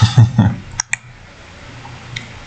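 A few sharp button clicks in a space game under development, two crisp clicks close together after some short thumps, with quieter faint ticks later in a mostly quiet room.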